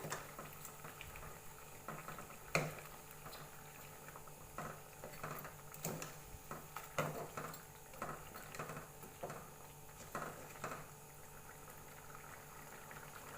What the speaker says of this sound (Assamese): আমাৰ মাংসখিনি উতলি আছে।